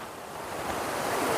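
Handru Falls near Ranchi, Jharkhand roars as a steady broadband rush of falling water, loud and continuous with no breaks.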